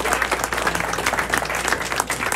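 Audience applause at a speedway press conference for Belle Vue versus Edinburgh: steady, dense clapping from a room of people, fairly loud and sustained throughout with no break.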